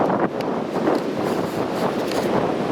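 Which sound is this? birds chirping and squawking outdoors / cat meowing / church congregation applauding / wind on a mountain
wind on a mountain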